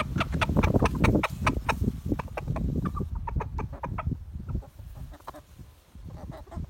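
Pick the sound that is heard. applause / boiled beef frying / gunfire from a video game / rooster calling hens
rooster calling hens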